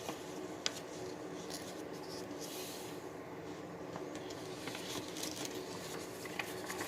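Paper crinkles and rustles softly as a sheet is folded into a paper airplane, with a steady low background hiss and a few faint creasing taps close by.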